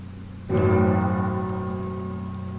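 A church bell tolls once in a rainy scene in the video game Pillars of Eternity. The loud, sudden strike rings out with a long humming decay over a continuous patter of rain.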